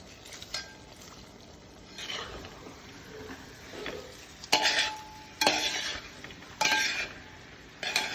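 Chicken curry with onions stirred in a pot, a spoon scraping and clinking in bursts over a soft steady sizzle, several louder stirring strokes near the end.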